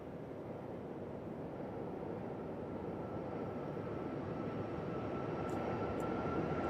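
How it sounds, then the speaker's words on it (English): Jet engines of an Airbus A340 in Korean Air livery spool up in a flight simulator, a steady broad roar that builds slightly in loudness, heard alone without talk. "Starting to hear the sound of the engines."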